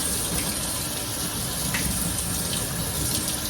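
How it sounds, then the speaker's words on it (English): Soaked black-eyed peas being rinsed under a running kitchen tap, a steady, close gush of water splashing into a sink that continues without pause. "That little bit of soaking that I just did is enough. I'm just rinsing them off."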